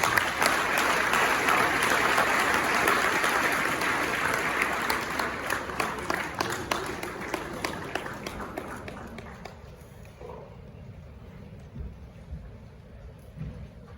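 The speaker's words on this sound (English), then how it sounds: "Another round of applause for His Excellency." Sustained crowd applause at the opening of the EU-Ghana Business Forum at the Kempinski Hotel, greeting the President of Ghana; dense clapping for about nine seconds, then thinning to scattered claps.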